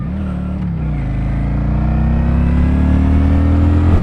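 A 2022 Honda Shadow Phantom motorcycle on its stock exhaust revs loud and close, a deep rumbling drone that dips briefly, then climbs steadily in pitch as the engine builds, with no talking.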